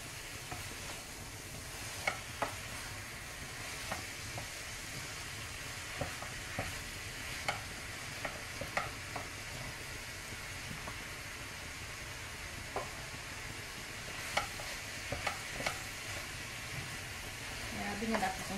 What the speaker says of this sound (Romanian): Se prăjește bine și carnea.